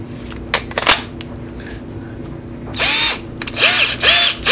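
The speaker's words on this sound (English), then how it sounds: "So I'm gonna try the Craftsman here." A Craftsman cordless drill powered by a repaired NiCad battery whirs in several loud bursts, each spinning up and winding down in quick succession, with lighter handling clicks and taps between the runs.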